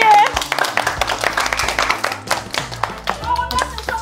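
Children clap in quick, uneven bursts of sharp taps close by, mixed with their lively voices and chatter in a cooking class.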